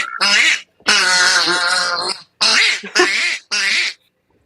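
A person imitates a duck call by voice, giving a string of loud, close, nasal quacks in five bursts, one long drawn-out squawk followed by shorter honks with brief gaps between them.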